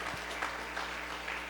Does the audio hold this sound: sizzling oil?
no